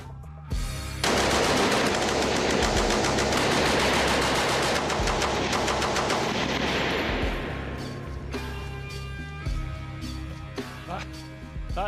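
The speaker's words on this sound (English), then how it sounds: "then we just depress the triggers and away it should go" A World War One machine gun firing rifle ammunition fires a long loud continuous burst, then stops, followed by scattered clanks and handling noises close by.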